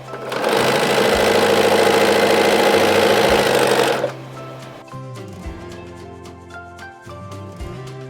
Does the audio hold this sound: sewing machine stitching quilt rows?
yes